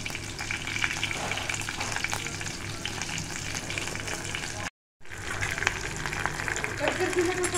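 Ginger garlic paste, chopped chillies and curry leaves fry in hot oil in a pan, a dense continuous sizzle close up that cuts out for a moment and then resumes.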